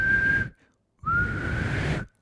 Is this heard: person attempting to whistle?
yes